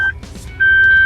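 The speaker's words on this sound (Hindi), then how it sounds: "आप ये जो सुन पा रहे हो ये रेयर सीट का सीट बेल्ट वार्निंग्स बीप है।" Rear seat belt warning chime inside a 2024 Suzuki Jimny, sounding as two steady electronic beep tones separated by a short gap, loud and close.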